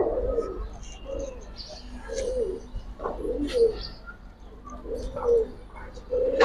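Giribaz pigeons coo repeatedly at close range, soft rolling calls recurring every second or so against a low steady background hum, with faint chirps from other birds.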